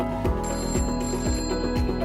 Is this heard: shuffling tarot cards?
no